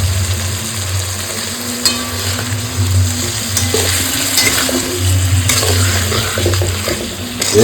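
Dried fish curry with pomfret sizzles loudly in a pan after a splash of water, a close, continuous crackling hiss with stirring scrapes and a low hum underneath.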